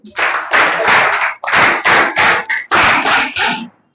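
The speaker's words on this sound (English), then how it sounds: "Our best clap for him." A burst of enthusiastic clapping from a crowd, loud and close, continuing for several seconds in uneven waves before fading out.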